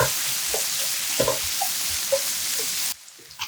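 Thinly sliced pork belly stir-fries in soy sauce, fish sauce and cooking wine, sizzling loudly and steadily with scattered stirring clicks, then the hiss drops away sharply near the end, with no talking.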